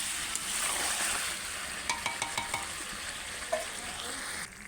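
Chicken kosha frying in a pan, a close steady sizzle with a quick series of metallic spatula clinks against the pan in the middle and one more knock a little later.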